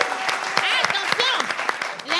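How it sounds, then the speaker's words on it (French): A brief burst of audience applause, with excited voices cheering and calling out over the clapping. "Est-ce qu'on peut applaudir le succès?"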